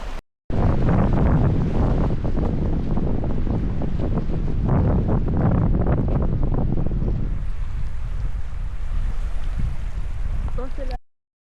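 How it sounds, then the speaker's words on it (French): Strong gusts roar and buffet an outdoor microphone in Banff National Park, loud and continuous, easing into a lighter rush near the end. "Tellement de vent."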